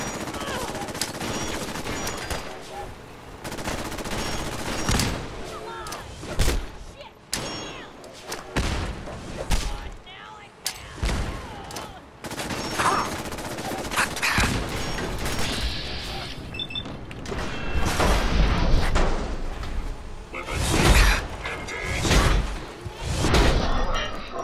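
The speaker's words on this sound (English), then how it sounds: "Let's get some grenades going." Grenades and gunfire in Fallout 4 bursting in dense, repeated blasts and thuds across a chaotic battle, with a voice talking over the loud action.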